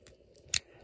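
A single quick snip of small scissors, crisp and close, in an otherwise quiet moment.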